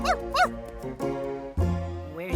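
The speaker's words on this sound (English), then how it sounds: "He likes to bark." A cartoon dog yips and barks several times in quick bursts, with bright, whiny tones that rise and fall, loud and close.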